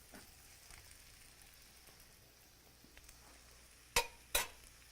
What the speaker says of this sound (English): We're hearing that nice sizzle, sizzle,